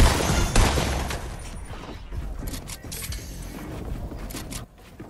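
Gunfire in Fortnite, a loud burst of rapid shots at the start followed by scattered mechanical clatter and further crackling shots, close and dense, without talk.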